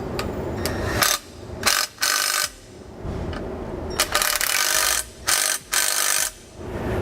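A ratchet with a 9/16 socket snugs flange nut bolts on SumoSprings helper springs fitted to a 2017 Newmar Canyon Star motorhome, giving bursts of quick, close clicking that stop and start again several times.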